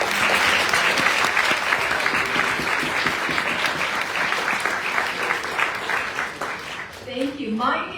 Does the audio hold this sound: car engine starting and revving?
no